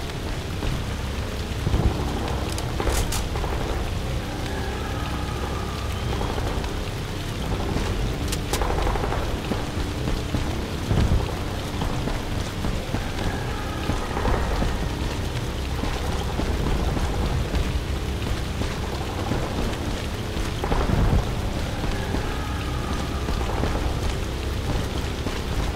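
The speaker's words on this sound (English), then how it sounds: "Nice rain, at least." Steady rainfall in the video game E.T. Armies, a continuous hiss of drops on surfaces with occasional soft rumbles, holding at an even level throughout with no talk.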